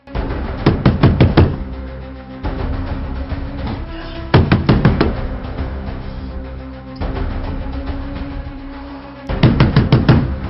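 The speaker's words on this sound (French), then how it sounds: "Émilie, ouvre cette porte." Someone knocks hard on a door in repeated bursts of rapid loud raps, separated by pauses, close up with a low background hum and no speech.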